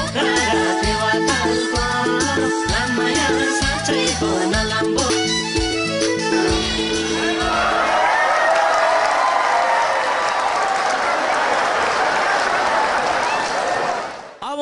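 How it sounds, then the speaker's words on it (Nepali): Concert audience at a Nepali pop show in Hong Kong breaks into loud, sustained applause and some cheering, a dense wash of clapping that rises after music and fills the hall before cutting off. "उहाँलाई जोरदार ताली गर्नुहोला।"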